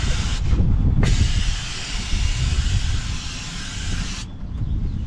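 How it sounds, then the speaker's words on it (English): Brake cleaner blasted from an aerosol can onto a car's exhaust crossover pipe outdoors, a loud continuous hiss lasting about three seconds before cutting off, with wind noise around it. "I'm going to hose this crossover pipe with brake cleaner"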